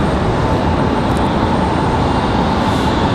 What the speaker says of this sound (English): Next arrival is going to be our MAX 9. It's going to be ICE 820.